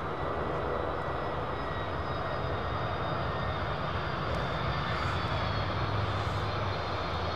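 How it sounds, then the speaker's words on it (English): Latam Boeing 767-300 freighter jet arriving from Bogota at Miami airport, a steady loud engine roar sustained throughout with no breaks. "this is Latam Freighter 767 300 from Bogota"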